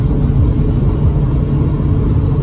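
A car cruises across the San Mateo Bridge, its steady low road rumble and engine drone heard from inside the cabin, loud and continuous with no talking.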